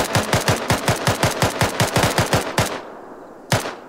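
Automatic weapon fire in the military shooter ArmA 3, a rapid steady burst of about fifteen close, loud shots followed by a pause and one more single shot.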